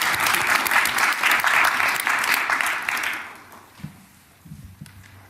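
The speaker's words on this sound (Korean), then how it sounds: "박수 한번 칠까요?" An audience at a public national briefing breaks into loud, sustained applause for about three seconds. The clapping then fades out, leaving a quiet room with a few faint thumps and murmurs.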